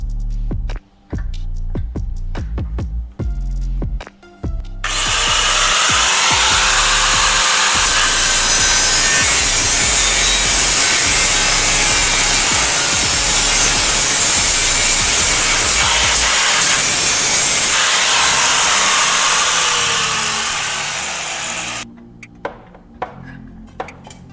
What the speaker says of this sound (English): I'll use a cutting tool to slice along that marked line.